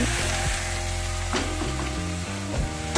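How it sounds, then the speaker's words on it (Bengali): Onion stalks fry in oil in a pan on a gas stove over a low flame, giving a soft, steady sizzle beneath some clinking and a low hum, with no talking. "আস্তে আস্তে পেঁয়াজ কলিটা ভাজা হোক"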